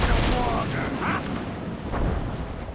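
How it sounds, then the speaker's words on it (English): Warship cannons firing in a naval battle in Assassin's Creed Rogue, heavy booming blasts blending into a continuous low rumble over the sea, with shouted voices over the din. "Warship cannon ready! Fire!"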